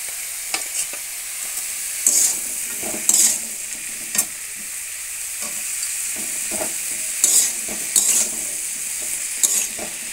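Salt, turmeric, chili and green chili paste frying in a pan for a simple home-style dish, a steady sizzle broken by repeated scraping stirs of a utensil against the pan, close and without talk.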